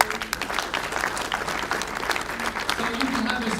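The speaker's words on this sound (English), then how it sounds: "We can applaud them." Audience applause for first-place winners at a dealer awards presentation, brisk clapping running throughout with voices talking over it.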